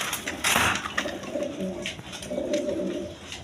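Large Gopalganj pigeons, male birds, coo in low repeated rolling phrases, fairly close, with scattered higher bird chirps and rustling throughout and no talk.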